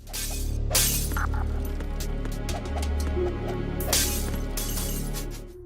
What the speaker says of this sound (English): shatter the bottles behind the bar,